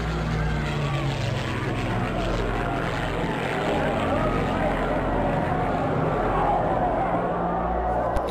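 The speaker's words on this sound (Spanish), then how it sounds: "estos aviones aparecieran en los cielos de Madrid" A deep, droning roar of propeller warplane engines overhead rumbles continuously and loudly, steady throughout with a throbbing low pulse.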